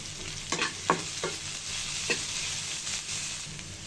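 Onions and green chillies sizzle in hot oil in a pan, with a steady frying hiss broken by a few sharp stirring scrapes, close and fairly quiet, with no voices.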